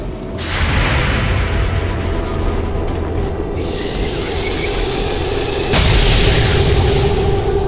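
Heavy fire in an XCOM 2 battle: loud, sustained booming blasts and explosive rumble, with a fresh burst of impacts surging in near the end.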